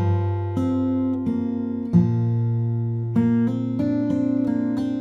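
Fingerstyle acoustic guitar plays a short phrase of a song, with plucked notes and bass strings ringing clearly, including hammer-ons and pull-offs, alone and close.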